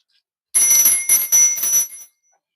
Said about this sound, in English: let me just ring the bell